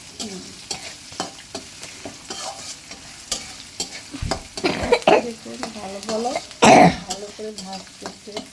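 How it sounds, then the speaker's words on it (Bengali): Onions and chilies frying in a pan, with a steady sizzle under repeated scraping stir strokes, close up, along with a cough and a throat clear partway through. "ভালো করে ভাজতেছে, পেঁয়াজ মরিচ ভাজতেছে।"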